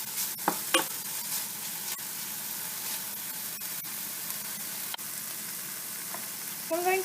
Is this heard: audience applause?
no